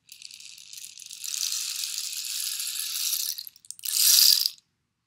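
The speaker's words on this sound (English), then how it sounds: "When you use a rain stick, you turn it over and all the pebbles fall from one side to the other." Pebbles cascade inside a small rain stick about a foot long as it is turned over, a close, bright rattling trickle that runs for a few seconds, breaks off, then returns in a short, louder burst.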